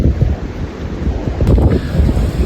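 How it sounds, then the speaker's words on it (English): A strong wind roars steadily through forest treetops during a windstorm, with heavy rumbling gusts buffeting the microphone close up and no talking. "It's so windy, the treetops are moving."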